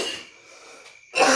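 A single sneeze bursts out at the end, sharp and close, after a brief quiet intake of breath.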